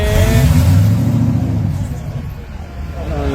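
Drag race car accelerating hard at a quarter-mile strip with no exhaust fitted, a loud, deep, raw engine roar that holds strong, eases slightly, then surges again, with voices mixed in.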